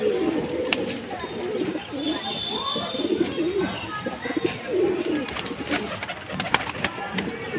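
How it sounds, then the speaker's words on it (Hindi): Pigeons coo in low, repeated throaty bursts throughout, with occasional chirps and a faint voice in the background. "तो देखिए सारे कबूतर मस्ती पे हैं एकदम।"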